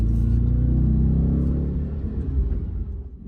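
An Audi RS4 with a 4.2-litre V8 gives a loud, deep, throaty engine rumble close by. The tone holds steady and then eases off and fades over a few seconds.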